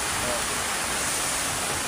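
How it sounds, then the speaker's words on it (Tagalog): Heavy rain pours in a dense, continuous hiss, with wind blending into the roar; no voices or breaks. Typhoon Kristine in the Philippines. "tumudo na naman ang ulan at hangin"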